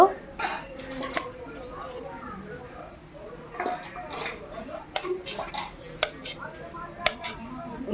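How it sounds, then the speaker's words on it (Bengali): A knife cuts paneer into large chunks on a board, giving a string of light, sharp taps and clicks at irregular intervals against a quiet kitchen background. "পনিরটাকে বেশ বড় বড় টুকরো করে কেটে নেব।"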